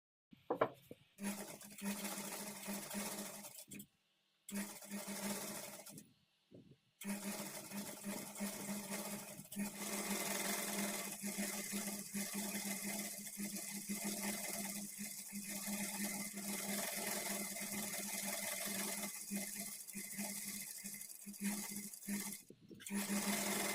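A sewing machine with a normal presser foot runs steadily, stitching a quarter-inch fold of blouse piping cloth, with a close, continuous whirring hum that briefly stops twice near the start, then runs on without a break.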